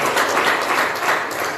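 A congregation at a church service breaks into a brief burst of dense, loud applause, many hands clapping together for about a second and a half with no voices.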